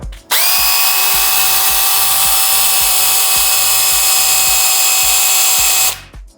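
A Sequoia SBC2004M-QV cordless mini chainsaw starts up and runs at a steady, loud, high-pitched whine for about six seconds without cutting, then winds down, over faint low knocking.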